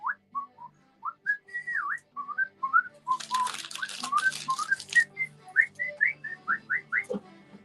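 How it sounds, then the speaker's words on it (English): A person whistles a tune in a broadcast studio, a string of clear, quick pitched notes that glide up and down. A burst of rapid clicking runs under the middle of the melody. "I can whistle, I can whistle like this"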